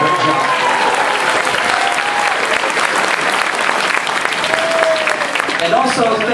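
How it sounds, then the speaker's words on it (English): A large audience gives a sustained, loud round of applause for costume contest contestants at a comic convention, the clapping dense and even throughout with a few faint cheers mixed in. "a massive round of applause once again for all of our contestants"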